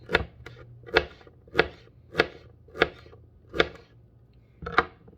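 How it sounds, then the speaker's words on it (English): Knife chopping celery stalks on a cutting board, eight crisp evenly spaced chops close by, each a sharp thock with a brief ring, over a low steady kitchen hum. "I'm just going to go through with my knife and chop."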